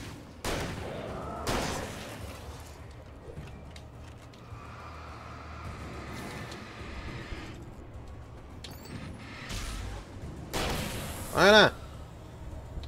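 Gunshots ring out in the video game Alan Wake as a few loud, sharp bursts spread across the clip, between stretches of quieter ambient game sound.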